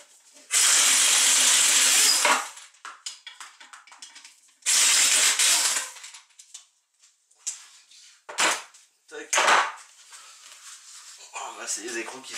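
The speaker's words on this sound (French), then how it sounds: "C'est les écrous qui sont tombés par terre." Metal nuts from a Renault D7F engine's cylinder head, as fitted to a Twingo or Clio, clatter onto a workshop floor. A few sharp, close metallic hits follow two longer noisy bursts.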